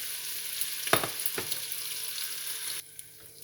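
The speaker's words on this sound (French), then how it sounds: "je vais mettre à dorer mes lardons" Bacon lardons sizzle steadily in a pan for a beef bourguignon, with a couple of sharper stirring crackles, close and moderately loud, before the frying drops off abruptly near the end.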